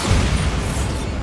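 Bombarda spell blast in Hogwarts Legacy, a short dense booming explosion with rumbling debris that stays loud for about a second.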